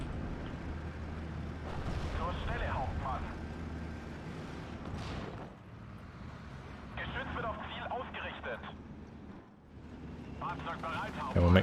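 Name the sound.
mortar shells exploding in Steel Division: Normandy 44 video game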